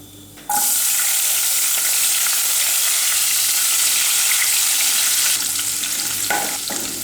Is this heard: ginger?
yes